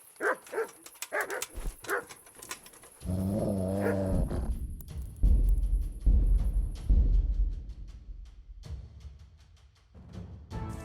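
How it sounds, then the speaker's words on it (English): A dog in the Kingdom Come: Deliverance video game barks and growls in a series of sharp bursts, some low and rumbling, close by, with short gaps between. "Who are you barking at?"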